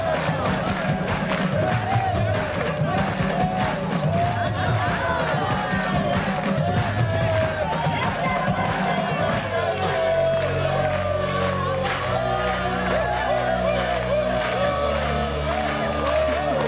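A large crowd clamours and shouts together in a Hindi film scene, a steady dense roar of voices with rising cheers and cries, loud and continuous throughout, with a faint musical undertone emerging toward the end.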